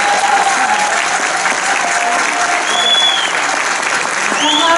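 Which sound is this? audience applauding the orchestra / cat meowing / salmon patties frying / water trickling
audience applauding the orchestra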